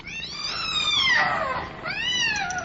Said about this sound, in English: The cat! Look out for the cat!